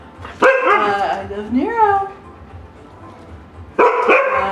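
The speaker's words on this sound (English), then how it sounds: "No barking. No, no barking." Dog barks in short bursts near the start and again near the end, loud and close, with a person speaking between and over them.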